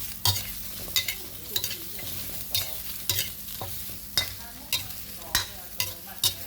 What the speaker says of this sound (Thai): คั่วให้สุกคั่วให้หอมเลยครับ